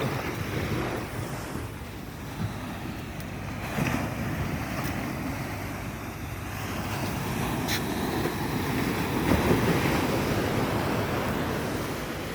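Continuous roar of ocean surf breaking on a shore, with gusty wind buffeting the microphone and no talking.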